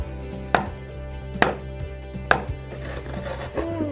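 Three sharp, loud chisel strikes from a mallet, evenly spaced about a second apart, while a striped wooden cutting board is being made; quieter scraping and light handling noise follow.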